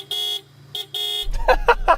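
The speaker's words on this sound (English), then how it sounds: "That is the lamest horn ever, isn't it?" Toyota GT86 car horn sounds a short blast, a brief chirp and another blast with a thin, reedy tone, followed by a few rapid clattering or clicking noises at close range.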